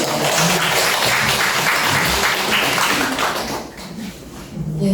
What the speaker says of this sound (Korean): 우리 교수님한테 박수 한번 보내주세요